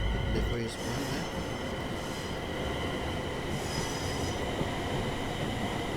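A Class 380 train rolls by in Train Sim World 4, on a Scottish suburban line near Pollokshields East, with a steady broad rumble of wheels on rails. Faint squeal tones rise in the upper range as it passes.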